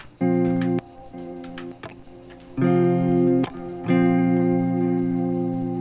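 Sustained electric guitar chords ring out in three held strums separated by brief gaps, with a dry, slightly noisy tone and small clicks between.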